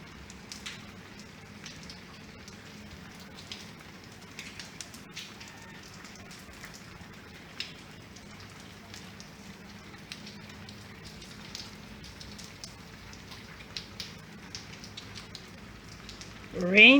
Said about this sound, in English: raining since about 9 a.m. So I am indoors. It's all rain.